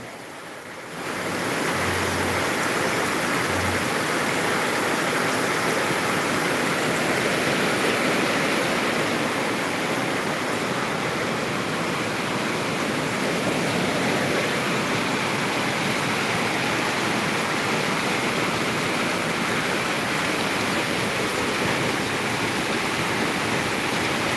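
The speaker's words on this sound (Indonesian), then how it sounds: "Masih hujan lebat nah, lebat lagi." Heavy, steady rain pours down in Sako Kenten, Palembang, South Sumatra, a dense, loud, continuous wash of noise that starts abruptly and holds unbroken throughout, with no voices.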